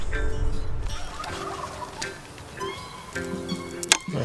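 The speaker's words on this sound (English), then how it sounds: "I hear hens." Wild Merriam's turkey hens call in spring in the Rocky Mountains with a scatter of short yelps and clucks at moderate distance, one sharp call near the end, against an outdoor backdrop.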